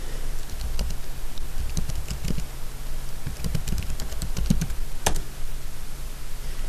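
Fingers type on a computer keyboard in quick bursts of crisp clicks, with a louder key strike near the end, all close and alone over faint background hum.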